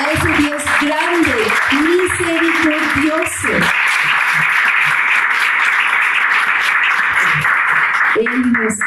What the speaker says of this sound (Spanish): le invito a que le dé un fuerte aplauso a ese Dios maravilloso